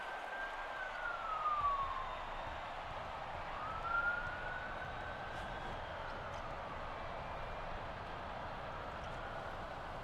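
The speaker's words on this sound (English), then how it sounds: "I don't really know what happened because that siren was so god dang loud." A loud emergency siren with wailing pitch sweeps rising and falling over a steady background, swelling twice near the start and then continuing as a faint ongoing wail.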